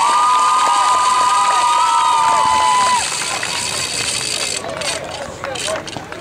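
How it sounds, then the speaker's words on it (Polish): Crowd cheering and shouting loudly at an American football game of Husaria Szczecin, a dense roar with a whistle-like tone early on that eases to a lower, steady crowd din after a few seconds. "Wielkie brawa!"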